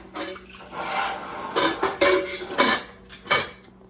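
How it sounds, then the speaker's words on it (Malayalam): A metal pressure cooker lid being closed while cooking ellum kappa (beef and tapioca) biryani gives off a handful of close, clattering metallic clanks and scrapes in uneven bursts. "കുക്കർ അടച്ച്"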